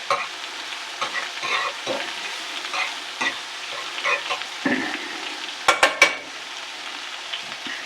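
Meat seasoned with granulated salt, pepper, garlic and onion sears in a pan for braising, with a steady close sizzle throughout and a few sharp clanks as the pieces are flipped near the end.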